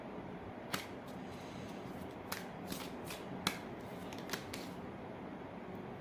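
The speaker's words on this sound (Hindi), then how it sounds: "कुछ और कार्ड्स पे निकालना चाहूँगी।" A deck of tarot cards is shuffled and drawn by hand, making a faint, close papery rustle punctuated by several soft, sharp card snaps at irregular intervals.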